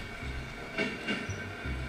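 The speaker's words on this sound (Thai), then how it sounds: "เมื่อกี้รถไฟ มันคือรถไฟ" A train rolls through a railroad crossing in a video game, with a steady rumble of wheels and two metallic clacks or squeals in the middle.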